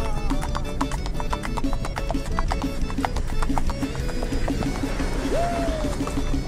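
A young marcha picada gaited horse clip-clops in a quick, even hoofbeat rhythm that runs throughout, close and fairly loud, with a brief neigh rising near the end.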